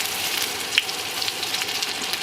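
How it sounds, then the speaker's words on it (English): Food frying in a frying pan on a Grimsby induction hob while camping: a steady, close hiss of sizzling with small crackles and pops, no talk. "Yeah, that's starting to cook away."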